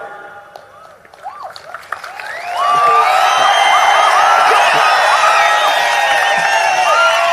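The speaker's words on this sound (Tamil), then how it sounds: "கைதட்டுக்குன்னு கொஞ்சம் பேர காசு கொடுத்து கூட்டி வந்திருக்காங்க." Crowd at a political rally in Tamil Nadu clapping and cheering, quieter murmuring at first, then a sudden surge of loud applause, whistles and whoops that holds steady, with some voices mixed in.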